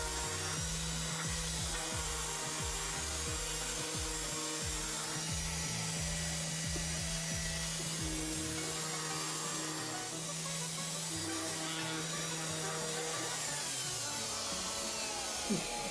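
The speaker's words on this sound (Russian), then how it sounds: "Сразу же заготовка шлифуется." A glued wooden workpiece is sanded with a power tool, giving a steady, continuous abrasive hum and rasp with a constant low drone underneath, close and alone throughout.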